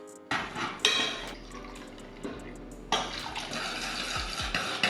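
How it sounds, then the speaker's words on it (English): Water is poured into a packaged fasting-diet soup mix, sounding as an uneven pouring and splashing of liquid up close, with a few light clatters of a container and bursts of pouring. "Let's put some water first."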